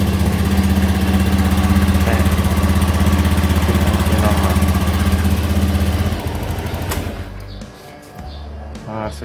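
A Honda automatic scooter engine runs with a steady, loud mid-pitched hum and buzz, then cuts out near the end, leaving quieter ticking and faint background noise.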